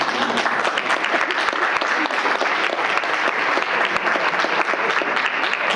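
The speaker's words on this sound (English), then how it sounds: "So please join me in applauding their accomplishments." Loud, dense applause from a large audience honoring faculty years of service, sustained and even throughout, with many hands clapping close together and no voices standing out.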